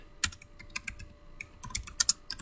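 Quick, uneven bursts of key clicks on a computer keyboard as a file name is typed, close and crisp with brief pauses between strokes, no voices.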